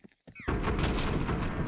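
Rapid gunfire bursts from a Counter-Strike match at a BLAST Premier esports event, loud and continuous after a brief quiet start with short in-game tones.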